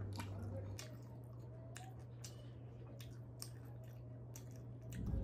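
Someone chews jalebi close to the microphone, producing soft wet squishes and small bites over a steady low hum, faint and intimate with no speech.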